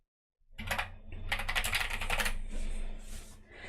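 Rapid typing on a computer keyboard, close and fairly loud, with quick bursts of keystrokes and a brief pause, over a low steady background hum.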